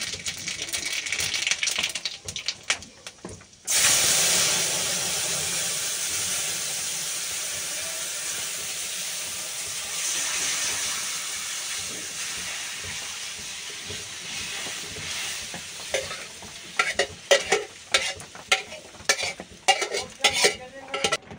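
Cumin seeds and dried red chillies dropped into hot oil for a dal tempering burst into a loud hissing sizzle that settles into a steady fry, with scraping stirs and clinks growing busier near the end; no talk.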